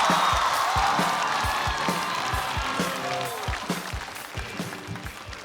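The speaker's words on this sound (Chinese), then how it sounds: "掌声有请" Audience applause at a Chinese stand-up comedy competition semifinal greets a comedian walking onstage, a steady dense clapping wash with light cheering that gradually thins out.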